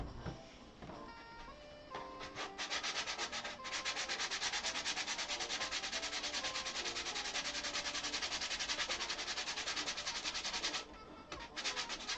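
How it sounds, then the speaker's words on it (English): Sandpaper rubs rapidly back and forth on the edge of a pine door being hung, a close, steady scratchy buzz lasting around nine seconds after a few brief opening strokes. "Let me just sand on this for 1 second."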